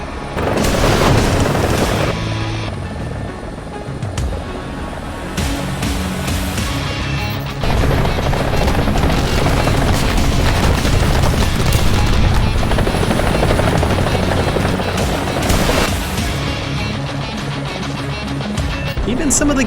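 Helicopters under swarm attack by kamikaze drones in War Thunder, with a steady loud rotor drone throughout and repeated booming explosion bursts layered over it, with some talk mixed in.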